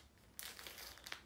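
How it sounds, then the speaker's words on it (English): A plastic bag of diamond painting drills is torn open, making a close crinkly rip that starts abruptly partway in and continues as rustling, with a sharp crackle near the end. "I'm already tearing it off."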